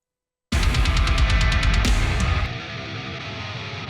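After a moment of silence, a heavily distorted electric guitar chord through a Fortin amp plugin crashes in and rings with thick, saturated sustain.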